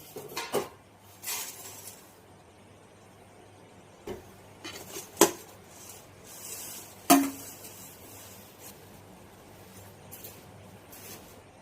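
Intermittent clinks and knocks of dishes and utensils with soft sloshing, a few sharp clattering hits spaced irregularly, no talking.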